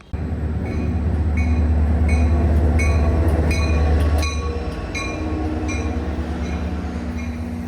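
A New Jersey Transit train in South Jersey runs at a steady rumble, with a low drone of wheels on rails. Sharp periodic squeals and clicks ring out above it, and no voices are heard.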